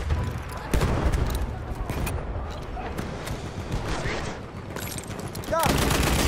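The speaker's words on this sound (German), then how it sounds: "Da! Maschinengewehr!" Lewis machine gun fire in a first-person World War I shooter on the Amiens map, loud bursts of rapid shots over dense battlefield din, with voices present.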